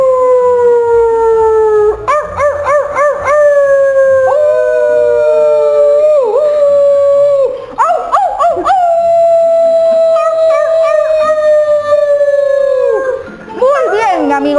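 A person's voice imitates a wolf howling at the moon, long sliding howls that rise and fall across several calls, loud and close with no background sound.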